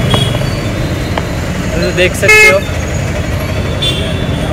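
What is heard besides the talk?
heavy road traffic in a Hyderabad market street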